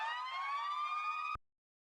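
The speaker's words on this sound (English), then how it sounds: "With the club head's air horn, the club head's dink, the the club head's long hoover woo" Layered club-style electronic samples, a rising wailing air-horn-like tone with a sliding hoover sweep, heard briefly and faintly before it cuts off abruptly.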